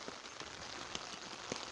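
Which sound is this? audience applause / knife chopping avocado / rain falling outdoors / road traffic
rain falling outdoors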